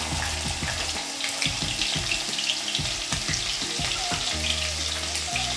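Green chilies hitting hot oil with cumin seeds over a high gas flame, a loud continuous sizzle and crackle with dense spattering, close up and without any talking.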